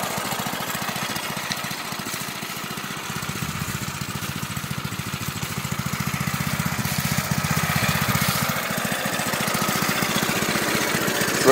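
Newly built ride's small engine idling: a steady, close, rapid chugging putter that runs continuously and grows slightly louder and rougher partway through.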